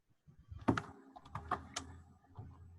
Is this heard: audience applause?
no